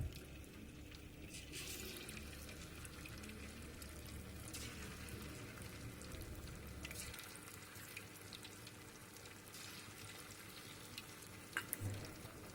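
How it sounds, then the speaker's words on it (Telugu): Chicken pakodi pieces frying in hot oil, a steady close bubbling sizzle with faint clinks, quiet and continuous with no voices. "ఇప్పుడు చికెన్ ముక్కలన్నీ దాంట్లో వేసుకొని ఫ్రై చేసుకోవాలి."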